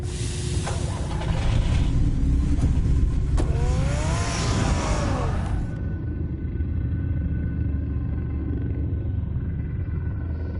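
Batmobile engine in a Batman game, a loud deep rumbling drone with a rising whine as it revs and pulls away, then cutting to a steady low idle hum that continues alone.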